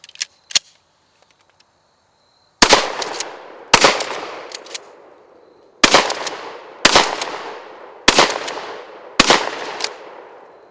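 Remington 870 shotgun blasts fired at zombie targets: two quick faint pops at the start, then six loud, sharp booms spaced about a second apart, each with a ringing decay.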